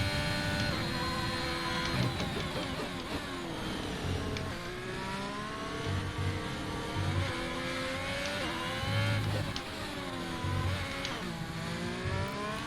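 A Ferrari race car in a Formula-style racing video game at Abu Dhabi, its engine screaming at high revs through rising and falling pitch sweeps with abrupt gear changes, one rough, loud and continuous without any speech.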